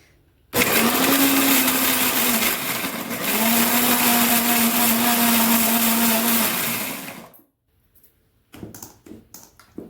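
A blender whirs loudly as it grinds beetroot with palm jaggery, running steadily for about seven seconds with a brief dip in pitch, then cutting off into silence followed by a few faint clatters.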